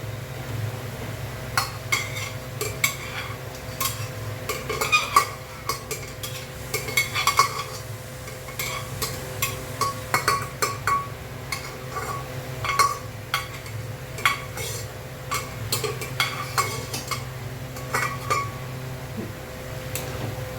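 Boiled kabuli chickpeas go into a pot on a gas stove with chicken mince, with clinks and scrapes of a metal spoon against the pot repeating steadily over a low background hum.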